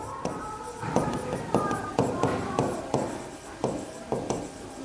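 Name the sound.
writing on an OMR answer sheet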